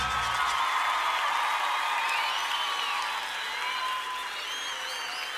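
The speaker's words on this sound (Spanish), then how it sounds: "Un aplauso para el amigo acá" A crowd at a live cuarteto concert in Cosquín applauds in a dense sustained wash of clapping and cheers, with bright musical tones ringing over it.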